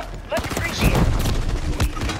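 Gunfire from a sniper rifle in Call of Duty: Warzone on Rebirth Island, with sharp shots and bursts ringing out over a steady game-mix bed while players talk excitedly.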